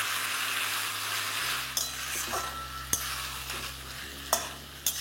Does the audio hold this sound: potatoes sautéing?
yes